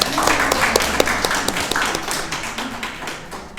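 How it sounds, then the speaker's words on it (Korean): Korean church congregation giving a big round of applause at a Christmas service, a short burst of dense clapping with a few sharper individual claps standing out. "네, 다시 한번 큰 박수 하겠습니다."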